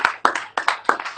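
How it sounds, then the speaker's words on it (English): A few people clapping in a quick, uneven rhythm for Drake, close and fairly loud, with sharp separate hand claps rather than a full crowd roar. "Round of applause for Drake,"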